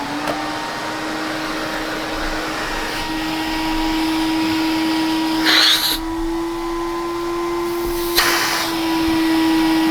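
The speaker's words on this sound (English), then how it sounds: "I want to try a new one just real quick to show you with the working vacuum just how much this loses its efficiency." A TriStar vacuum cleaner runs steadily nearby with a constant motor whine and airflow hum, and a couple of brief louder suction bursts partway through.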